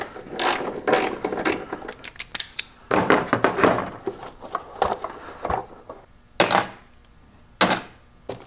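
Hand ratchet loosening the airbox bolts on a Toyota 4Runner, bursts of loud, close clicking pawl ratcheting in quick runs with short pauses between strokes.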